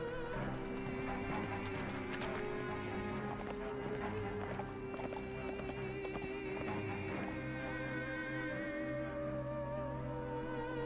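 A horse sound effect with rapid clip-clop hoofbeats and a whinny rising over a dense musical score, close and sustained throughout, no talking.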